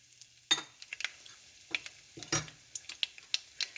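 Spice powder tipped into a hot oiled pan for spicy masala potato bhaji, giving soft sizzling and frying crackle with brief stirring scrapes and small utensil clinks, fairly quiet and close, no voices.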